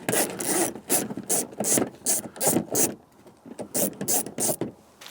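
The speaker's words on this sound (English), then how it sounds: "Let's get the screws off. Literally just two 8mm bolts holding this diffuser on." Two 8mm bolts are being undone on the rear diffuser of a BMW 118i, making repeated close, loud ratcheting rasps in short bursts with brief pauses between them, no voices.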